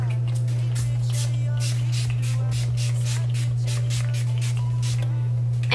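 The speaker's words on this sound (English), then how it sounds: "spritz my face with the Mario Badescu rose water spray" A series of short, hissing spritzes from a Mario Badescu rose water face spray bottle repeats steadily over a constant low electrical hum.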